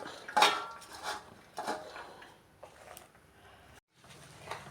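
Chopped spinach leaves are stirred into a crushed paste of coconut, garlic, cumin, turmeric and bird's-eye chilli, with utensils scraping and clinking against a bowl in several irregular bursts.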